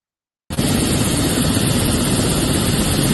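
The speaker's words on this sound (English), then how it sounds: "You see me in a helicopter." Helicopter engine and rotor noise, loud and continuous, starting abruptly after a brief silence and holding steady as if recorded from inside the cabin during a flight in Jamaica.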